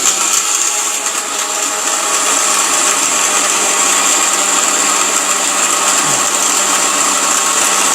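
Steady loud whirring grind of an electric blender making spice paste for a curry, one continuous even drone with no breaks and no voices.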